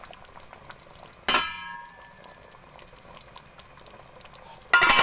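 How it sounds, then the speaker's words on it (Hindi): A pot of aloo chicken shorba simmers at a soft bubbling boil, with two sharp metallic clangs of a lid or utensil against the pot ringing out. "अब बॉयल आ चुका है,"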